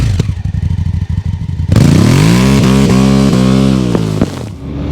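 A 2024 BMW R12nineT 1200cc motorcycle idles with a lumpy, pulsing beat, then fires up loud into sustained revving that climbs in pitch and drops back, close and dominant, with a brief clatter as it cuts.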